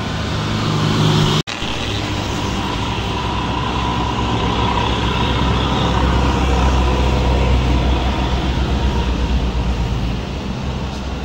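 Pertamina tanker truck on a climbing road gives a continuous loud engine drone and road roar, mixed with general traffic noise, close and steady throughout.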